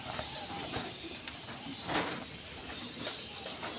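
Soft cooing of diamond doves repeats through a busy outdoor bird chorus of a breeding aviary, moderately close, with steady background chatter of other birds and no talking.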